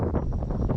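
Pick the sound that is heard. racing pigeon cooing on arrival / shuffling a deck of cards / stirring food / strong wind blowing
strong wind blowing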